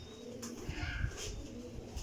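Sialkoti pigeons coo softly in a low, muffled murmur, faint and close with a steady low rumble of room noise behind.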